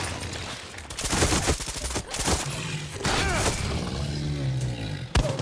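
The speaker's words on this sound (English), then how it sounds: "Oh, he's shooting at the croc." Enemy gunfire in Far Cry 6, a gunman shooting at a crocodile: dense bursts of rapid shots and loud cracks, with a roaring growl mixed in and a sharp blast near the end.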